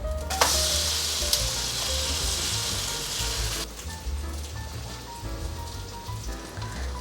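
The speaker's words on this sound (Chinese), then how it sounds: "煎馅饼的期间，可以不定时的翻面" Vegan cabbage-filled pies pan-fry with a loud, dense sizzle that cuts off abruptly partway through, leaving quieter crackling and low kitchen hum.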